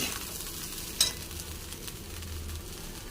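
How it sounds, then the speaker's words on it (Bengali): A spatula stirs fried rice with sugar in a frying pan, giving a steady close sizzle with one sharp scrape near the start and no voices. "ভালো করে নাড়াচাড়ি করে নেব।"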